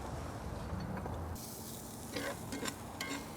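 Garlic with fresh thyme, minced sage and minced rosemary sizzles softly in a pan. The faint, steady frying hiss is broken by a few light stirring clicks near the end.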